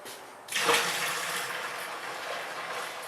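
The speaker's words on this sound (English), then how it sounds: "we're gonna use that pitcher of cold water up there. And she's gonna dump the cold water in." Cold water from a pitcher suddenly gushes and splashes as it is poured in during butter-making, then keeps flowing in a steady, close rush until the end.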